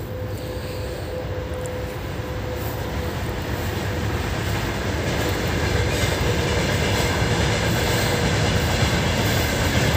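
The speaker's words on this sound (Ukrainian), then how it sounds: "потяг їде." A train passing near a plant nursery, a loud continuous rumble of wheels on rails that grows slightly louder, steady throughout with no voices.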